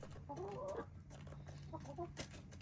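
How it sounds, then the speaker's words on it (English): Chickens cluck softly in short bursts nearby at a homestead waterer in winter, a few hens calling over a low steady hum. "I love to see that several chickens can get a drink of water at one time"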